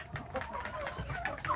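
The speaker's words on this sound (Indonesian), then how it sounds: "memelihara anak ayam kampung di bagian pembesaran untuk dijadikan calon indukan" Young free-range village chickens being raised as future breeding stock cluck softly and intermittently in a quiet pen, faint and close.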